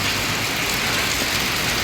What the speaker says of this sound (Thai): ฝนตกหนักจนน้ำท่วมเลย